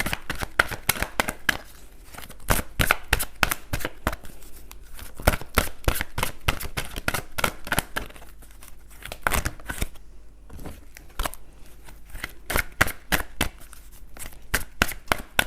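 Cards are handled, shuffled and laid out on a table in a steady run of crisp flicks and slaps. The sounds are close and continuous, with no talk over them.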